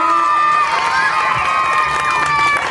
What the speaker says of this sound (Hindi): तालियां तालियां जोरदार